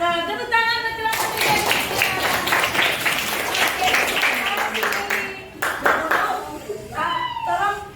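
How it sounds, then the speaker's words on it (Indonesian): A classroom of students applauds a student group during an Indonesian school lesson, with a burst of clapping for about four seconds and voices talking before and after. "tepuk tangan untuk kelompok"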